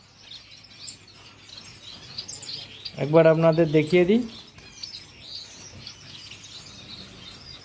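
Bengalese finches chirp and twitter in a quick burst, clear and close, with soft chatter faintly in the background and a person speaking.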